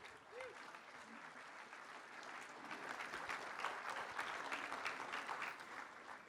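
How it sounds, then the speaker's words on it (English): Sustained applause from an audience at a veterans forum, building steadily and holding dense and loud throughout, with a few faint voices mixed in. "please give them a round of applause"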